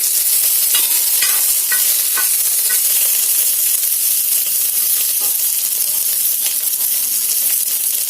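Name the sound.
curry leaves sizzling as they are added to hot oil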